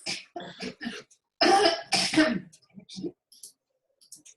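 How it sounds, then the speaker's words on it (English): A person coughs a few times in short harsh bursts, close and loud, with throat clearing and brief pauses of silence between. "Take the bag away and cough"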